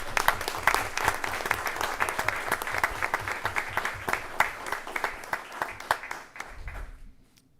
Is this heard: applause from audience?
yes